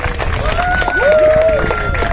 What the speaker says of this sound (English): So just give another round of applause to Kevin.